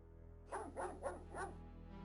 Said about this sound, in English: Get barked at by the Doge.